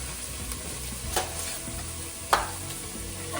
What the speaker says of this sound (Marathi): आता ही फोडणी परतवून घ्यायची